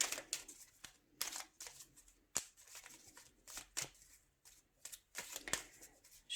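A deck of oracle cards being cut and shuffled, giving a run of quick papery riffles and soft slaps that come in short irregular bursts, close and fairly quiet.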